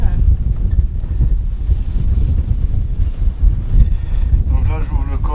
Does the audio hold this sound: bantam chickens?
no